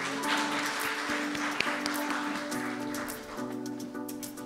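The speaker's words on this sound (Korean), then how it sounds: "박수로 맞이해 주시기 바랍니다." An audience at a semiconductor industry conference claps to welcome a speaker to the stage, a soft steady patter of applause beneath a sustained musical tone, with one sharp tap near the middle.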